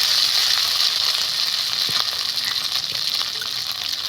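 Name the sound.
poppy seed and mustard paste sizzling in hot pan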